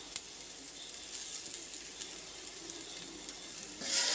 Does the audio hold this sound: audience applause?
no